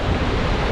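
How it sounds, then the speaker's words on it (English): A sudden microburst sweeps across Lake Powell, blasting strong wind and churning waves into a dense, loud roar that buffets the microphone steadily and drowns out everything else. "Microburst out of nowhere."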